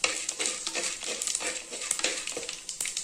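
Peanuts sautéing in a pan with chilli and curry leaves, a steady close sizzle broken by repeated scraping stirs, with no voices.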